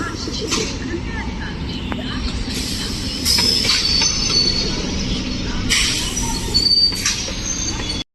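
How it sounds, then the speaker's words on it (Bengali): A Duttapukur local train rolls through Dum Dum Junction, its wheels squealing sharply against the rails over a loud, steady rumble, while a voice speaks over the noise. "এই দত্তপুকুর লোকাল এখন ক্রস করছে"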